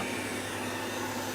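A Roborock S5 Max robot vacuum runs with a steady, even whirring hum of motor and suction, close and unbroken, with no talking.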